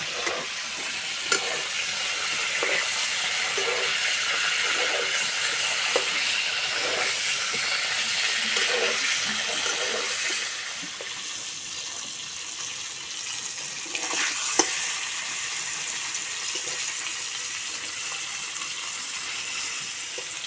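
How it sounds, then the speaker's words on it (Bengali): Pointed gourd (potol) frying uncovered in hot oil gives a continuous loud sizzling hiss, with regular stirring scrapes in the first half before the frying settles into an even, steady crackle. "পটল বেশি ভাজবো না হালকা লাল লাল করে ভেজে নেব"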